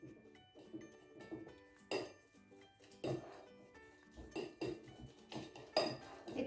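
A fork mashes ripe banana against a bowl, with repeated irregular clinks and scrapes of metal on dish and soft squelching between strikes, fairly close.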